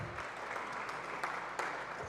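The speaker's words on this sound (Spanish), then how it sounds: "Un aplauso para ella." An audience at an indoor book presentation in Oaxaca claps in a brief, moderate burst of applause that keeps steady throughout.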